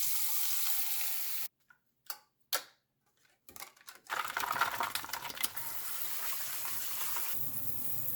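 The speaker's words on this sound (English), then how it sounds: "we'll rinse them off with Dawn dish soap and water." Dish soap and water rinsing PlayStation controller buttons, with brief splashes and trickles at first, then a steady close hiss of running water over the parts.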